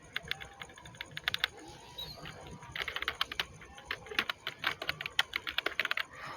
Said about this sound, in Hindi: अब देखो मैं यहाँ से इसको आपको दोबारा टाइप करके दिखाता हूँ।